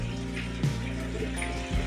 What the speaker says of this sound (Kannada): ಅದಕ್ಕೆ ನೀರು ಒಯ್ದು ಬಿಟ್ಬಿಟ್ರೆ ಸ್ವಲ್ಪ ಚೆನ್ನಾಗಾಗುತ್ತೆ ಧೂಳು ಕೂರ